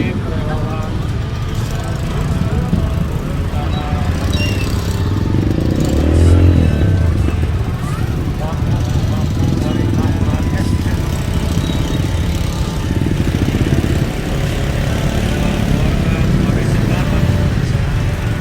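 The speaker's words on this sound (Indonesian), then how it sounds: "Begitu luar biasa kemacetan kita lihat bersama di belakang sepeda motor" Motorbike engines drone steadily in a traffic jam on a flood-hit road in South Kalimantan, a dense mix of idling and revving near and far, with cars among them and voices talking throughout.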